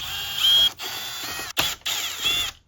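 A power driver backs Phillips head screws out of an old radio head unit in a 2019–2022 Ram, whirring in short close bursts separated by brief pauses.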